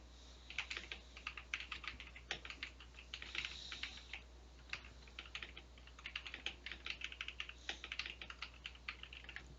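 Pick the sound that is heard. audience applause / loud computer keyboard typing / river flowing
loud computer keyboard typing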